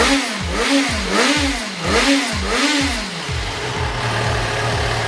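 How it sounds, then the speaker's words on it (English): A Yamaha FZ6R motorcycle engine with stock exhaust revs repeatedly, rising and falling in a quick series of six or so throttle blips before settling into an idle. It is close and loud. "so I can rev it up"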